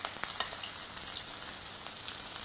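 Scallops searing in a hot frying pan, a steady close sizzle with scattered small pops and crackles, running continuously with no talking.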